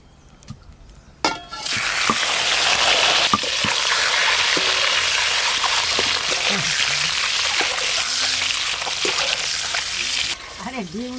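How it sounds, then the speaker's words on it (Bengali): Hard-boiled, peeled eggs hit hot oil in a pan and set off a loud, steady sizzle that carries on with faint clinks from stirring, easing slightly near the end as a voice briefly speaks. "সেদ্ধ করে খোসা ছাড়িয়ে রাখা ডিমগুলো ভালো করে ভেজে নেব।"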